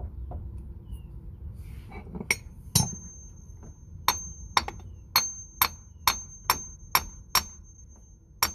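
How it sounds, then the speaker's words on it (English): A hammer taps an outer CV joint onto the driveshaft spline of a Mk1 Golf: a few scattered knocks at first, then a steady series of sharp, evenly spaced metallic blows close by over quiet background. "You just need to line up the spline in there and just tap it in with a hammer."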